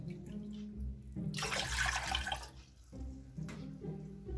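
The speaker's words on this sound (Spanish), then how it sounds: "Se van a poner dos tazas de agua y se va a dejar que hierva." Two cups of water are poured into a pot to be brought to a boil for making gelatin, a short, close splashing gush after quiet kitchen background, followed by a fainter trickle.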